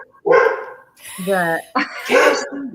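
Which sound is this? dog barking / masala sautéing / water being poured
dog barking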